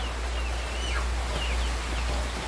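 Chickens on a flooded poultry farm during heavy rain cluck faintly over a steady, loud low rumble of rain and water noise.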